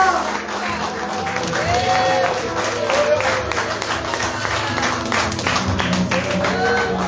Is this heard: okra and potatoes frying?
no